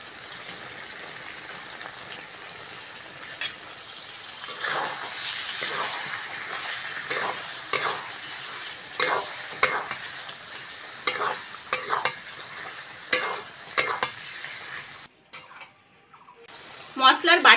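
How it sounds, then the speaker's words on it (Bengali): Jackfruit frying with spices, with whisked sour yogurt added, sizzles close by under frequent rhythmic scrapes and clanks of a spoon stirring the pan, followed by a short lull and a final burst of sizzling. "মশলার সঙ্গে এঁচড়টা ভালো করে কষে নিয়েছি বন্ধুরা। এবার ফেটানো টক দইটা দিয়ে দেবো।"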